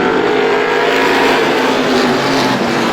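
Race cars roar down the back straightaway at Star Speedway during a feature race, a loud, sustained engine drone with no gaps and no voices.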